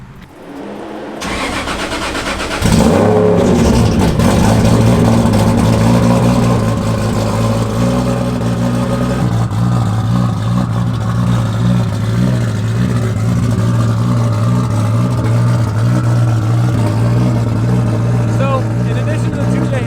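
A BMW E36 engine fitted with a 2J head, big cams and a turbo cranks, starts and settles into a loud steady idle on a dyno, close and continuous.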